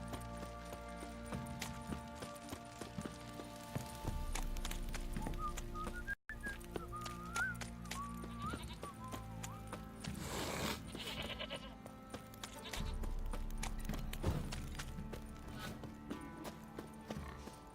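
Sheep bleat in The Witcher 3 amid clopping hooves and a layered game soundscape, with several wavering bleats rising over the continuous ambient mix.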